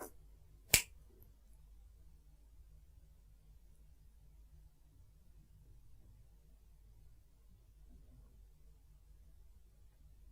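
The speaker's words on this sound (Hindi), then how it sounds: "ये जो चुटकी बजाऊंगा इसकी आवाज को सुनना" One crisp, close finger snap rings out near the start, followed by long near-silence in a quiet room.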